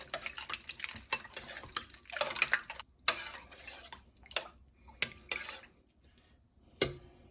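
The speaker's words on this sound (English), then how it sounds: "Take a spoon and start stirring it around to start that cooling off process." Spoon clinking and scraping around a container while stirring hot basil iced tea to cool it, in a series of sharp taps and swishes separated by quiet pauses.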